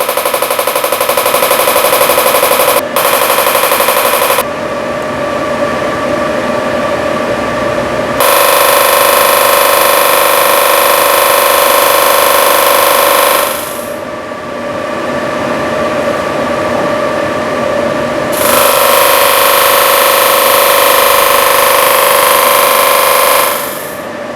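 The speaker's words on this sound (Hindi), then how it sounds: "जैसे ही मशीन का साउंड आता है" A loud, continuous mechanical buzzing drone with a rapid pulsing rattle from a body sculpting muscle-stimulation machine, cutting out and restarting in long stretches; no talking.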